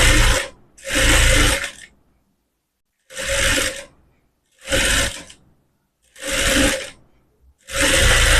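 A sewing machine stitches umbrella fabric in short loud bursts, each a rapid mechanical whirr lasting about a second, separated by brief pauses, five or six runs in all.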